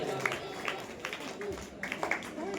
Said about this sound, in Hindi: तालियां हो जाए इस बच्चे के लिए